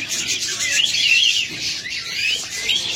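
An albino pied budgerigar chirps steadily in a continuous, bright, warbling chatter at close range; no one speaks.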